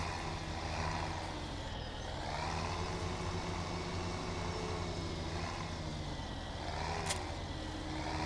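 A Massey Ferguson tractor engine in Farming Simulator 17 drones steadily and evenly throughout, with a low rumble, slight swells in pitch and a brief faint high blip near the end.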